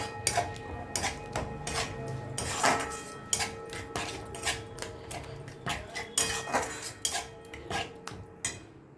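Ground cumin, turmeric and Kashmiri chili powder being stirred in a pan for egg curry, with a spoon repeatedly scraping and clinking against the metal in an uneven rhythm of close, sharp knocks.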